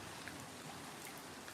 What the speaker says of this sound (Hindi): देखो तो हवा है ठंडी ठंडी और बारिश है सच में सर्दी।